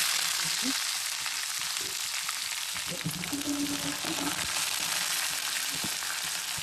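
Capsicum and curry leaves crackle and sizzle in hot oil in a pan for masala chitranna, a dense, steady frying hiss with small pops running throughout, close and loud, no voices.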